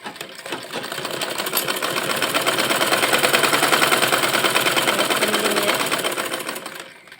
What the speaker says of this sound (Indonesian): Oke, lanjut kita jahit.